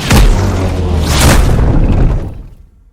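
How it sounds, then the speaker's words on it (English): A Titan bomb detonates in the video game Subnautica, giving two heavy, loud booming blasts with a rolling, crackling rumble that fades into silence. "Stand by for Titan bomb."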